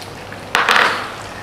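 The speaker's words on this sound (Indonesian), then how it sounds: "Kita bisa mulai tumis bawang bombaynya" Onions dropped into melted butter in a pan, giving a sudden loud burst of sizzling that crackles for a moment and then slowly fades.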